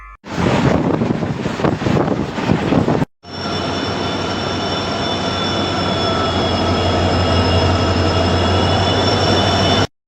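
The Tuticorin–Mysuru special express, hauled by twin WAP-7 electric locomotives, runs past loud and close. Gusty wind buffeting comes first, then after a brief cut a steady heavy rumble with a high electric whine sustained throughout.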